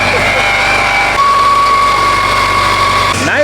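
A Subaru with 340,000 km on it idles just after a jump start, its engine giving a steady close rumble with a faint whine, while a voice talks nearby.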